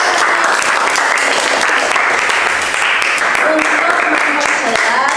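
A classroom of students claps and applauds loudly and steadily throughout, a dense continuous patter of many hands close by with faint voices mixed in.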